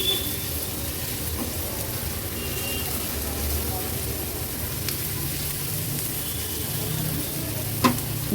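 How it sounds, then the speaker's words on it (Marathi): Finely chopped onion frying in oil in a pan, a continuous soft sizzle with occasional faint clinks, steady in level throughout. "कांदा आता तेलावर शिजवून घ्यायचा आहे."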